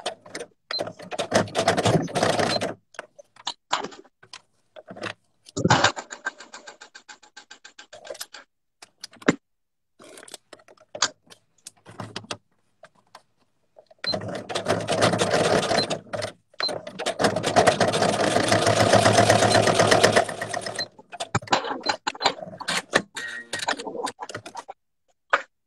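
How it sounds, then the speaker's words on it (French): A sewing machine stitches a leather pouch in stop-and-start runs, with uneven clattering bursts, short pauses and a long steady stretch of whirring, close and fairly loud. "je viens aider la machine à démarrer"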